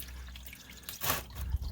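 Engine oil starting to drip from a car during an oil change: a couple of faint, close drips and a small splash in under two seconds of quiet.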